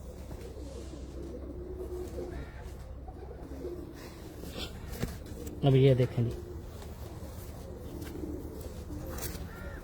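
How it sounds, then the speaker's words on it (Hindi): Sialkoti pigeon on a rooftop giving a short, close burst of throaty coos near the middle, under low background noise and someone talking quietly. "ये सियालकोटी कबूतर है"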